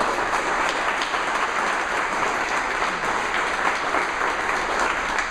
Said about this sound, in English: Let's give them a round of applause for their